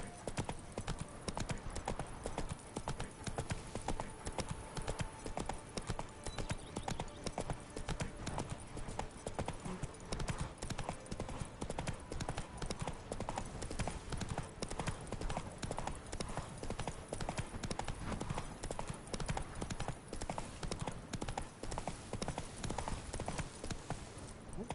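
Horse hooves clip-clopping steadily at a gallop in the video game The Witcher 3: Wild Hunt on PS5, a continuous loud rhythmic pounding with occasional neighs throughout.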